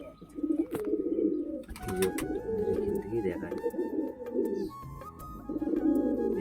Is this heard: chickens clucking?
no